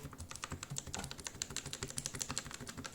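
Someone types quickly on a lubed Royal Kludge RK61 60% mechanical keyboard, giving rapid, dense, soft clacks that run continuously and close up with no talking.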